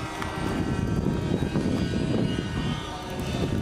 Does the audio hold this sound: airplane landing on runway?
yes